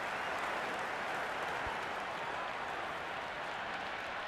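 A stadium crowd applauds in the cricket video game Cricket 26, a dense, steady roar of clapping that fills the whole stretch at even loudness.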